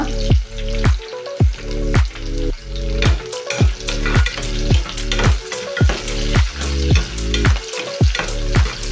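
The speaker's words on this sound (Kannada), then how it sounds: "ಈರುಳ್ಳಿ ಕಲರ್ ಚೇಂಜ್ ಆಗ್ತಾ ಇದೆ. ಇವಾಗ ಹಸಿರುಮೆಣಸಿಕಾಯಿ ಸೇರಿಸ್ಕೊಳ್ಳೋಣ." Onions with green chillies frying for spinach rice bath, a steady loud sizzle broken by regular scraping stir strokes about every half second, close and continuous with no talk.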